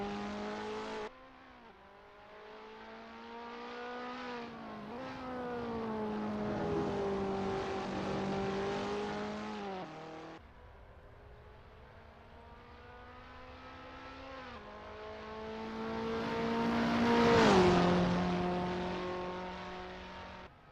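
KTM X-Bow R race cars at Monza in Assetto Corsa rev and accelerate with rising engine whines through gear shifts, one car passing loudly near the end.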